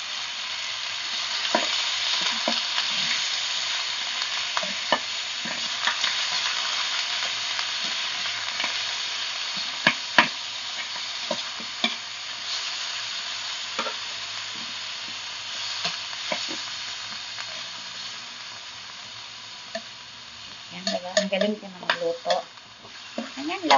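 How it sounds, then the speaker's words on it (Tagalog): Adobo of pork bones sizzling steadily in a pan while being stirred, with scattered clicks and scrapes of the utensil against the pan and a busier burst of stirring toward the end. "haluin natin siya."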